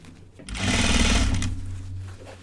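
A sewing machine stitches through heavy denim jeans in one short burst, a loud, close, rapid mechanical whir that starts and stops within a couple of seconds.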